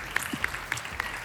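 Sparse applause from a studio audience at an Armenian television entertainment show celebrating Television Day: about four distinct, evenly spaced claps standing out over a low hum, fairly quiet and with no voices.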